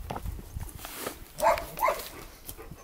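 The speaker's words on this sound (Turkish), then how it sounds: "Yakınımızda köpek var." Two short dog barks nearby at night, about half a second apart, over low background rustling.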